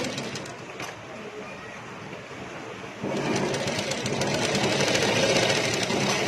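A sewing machine stitches the hem edge of a salwar in a tailoring boutique, first a quieter run, then a louder, steady rapid whirring clatter close by for the last few seconds.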